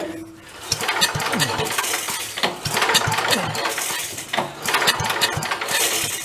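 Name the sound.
vintage Mite-e-Lite generator engine being pull-started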